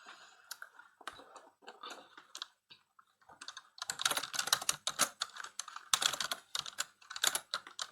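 Python code typed on a computer keyboard, rapid clattering keystrokes close up, sparse at first and then dense, fast bursts of typing with no talking.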